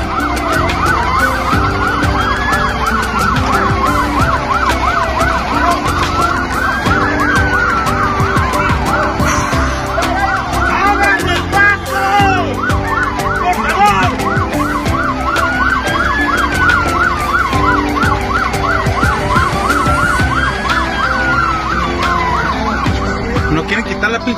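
A loud police car siren wailing in rising and falling sweeps, close by and continuous, over traffic and a busy street in Tijuana, Mexico.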